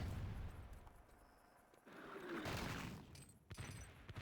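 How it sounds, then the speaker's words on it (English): Artillery strike landing during a competitive Wolfenstein: Enemy Territory match, heard as a dense run of rumbling booms and blasts that swell and fade across the scene, with no speech over it. "There's a new artillery down."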